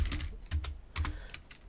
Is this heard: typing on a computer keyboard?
yes